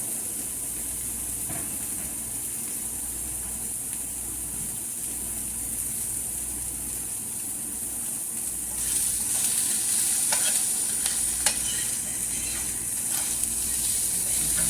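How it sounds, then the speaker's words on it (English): Small pieces of sausage frying and browning in a pan, giving a steady, even sizzle that grows louder partway through and carries a few sharp crackles near the end. "we want the sausage to brown. I'll cook down really good."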